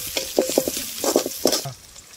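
Onions and green chillies sautéing in a pan, a busy run of close stir-scrapes and short sizzling bursts in a steady rhythm that fades out near the end.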